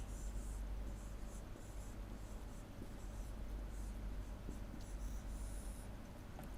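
Chalk or a marker scratches and taps steadily on a board during a maths lesson, a faint run of short strokes over a constant low background hum, with no talking.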